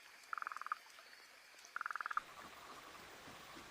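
An Australian frog gives two short rapid trains of croaks, each a quick run of pulses, clear against a faint outdoor background with no voices.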